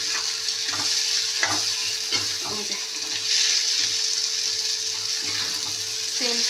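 Spice paste frying in oil in a pan for a fish egg curry, a continuous close hissing sizzle with occasional soft stirring clinks, no talking.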